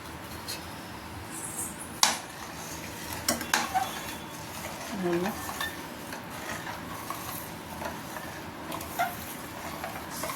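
Custard mixture being stirred in a pot of milk, soft scraping and intermittent clinks of a spoon against the metal at close range, with a few sharper knocks and a quiet background; no speech.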